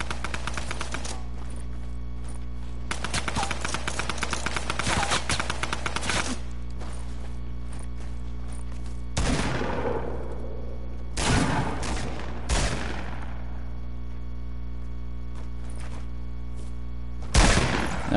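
SCAR assault rifle fire in Fortnite: close, rapid bursts of automatic shots in the first seconds, then scattered louder single reports and booms spread across the stretch, over a constant low game hum.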